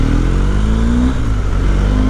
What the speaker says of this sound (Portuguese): Só o barulho do motor e do vento.